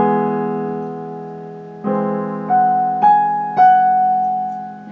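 A piano plays a single measure from the Adagio Sostenuto of Rachmaninov's Piano Concerto No. 2: a sustained chord decays, then right-hand eighth notes enter one by one, clear and close with no talk.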